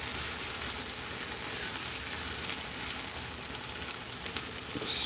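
Onions for chicken tinga frying in a pan, a loud continuous hiss and crackle heard up close, with faint scraping of a spatula stirring them, and no talk.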